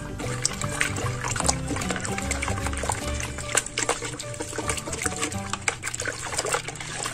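A spoon stirs two tablespoons of salt into half a liter of water to dissolve it for a liquid soap base, a sloshing, swirling liquid sound with small clinks and trickles for several seconds.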